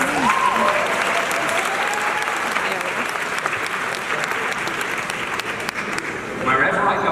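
A large audience at a touring lecture event claps and cheers in a sustained, even wave, with a few raised voices mixed into the steady applause.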